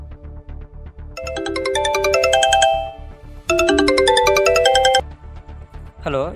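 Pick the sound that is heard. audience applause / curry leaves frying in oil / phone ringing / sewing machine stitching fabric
phone ringing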